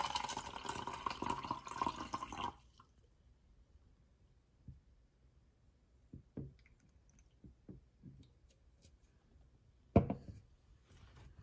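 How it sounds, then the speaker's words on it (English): Bottled water, sold as sparkling purified water, is poured into a glass: a dense gush of splashing liquid for a couple of seconds, then quiet with a few soft drips, clinks and small handling sounds. "Let's pour some water in."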